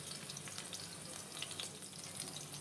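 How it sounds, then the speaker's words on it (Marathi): Green chillies frying in hot oil in a pan on a gas stove, a steady, fairly quiet sizzle with fine crackling pops throughout and no voices. "ही मिरची थोडी तडतडली की त्याच्यानंतर लसूण टाकायचा"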